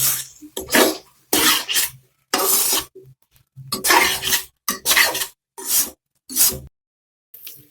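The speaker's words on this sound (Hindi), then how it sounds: "अब मैं इसको मिक्स करूंगी आराम से, चावल में टूटे।" Eggs, tomato and rice being mixed in a pan, heard as a run of separate scraping and clattering strokes, each about half a second long with short gaps, close and fairly loud with no talk.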